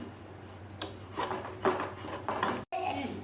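Semolina for kesari scraped and stirred in a pan as it roasts, a steady close rasping and rubbing with brief scuffs, a faint voice underneath and a short gap near the end.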